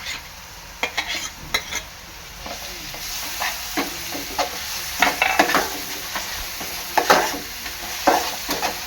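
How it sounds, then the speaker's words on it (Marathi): An onion-tomato masala with ginger-garlic paste cooks in a pan with a steady sizzle. Repeated scraping stirs give it an uneven rhythm, close and moderately loud. "हे मिश्रण चांगलं एकजीव करून घ्यायचं आहे आणि शिजून घ्यायचं आहे"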